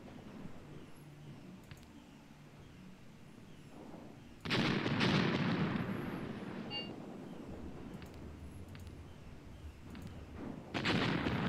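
A high-explosive artillery strike in the video game Graviteam Tactics, heard as a sudden loud booming impact followed by rumbling fire, with another blast near the end over a low background hum.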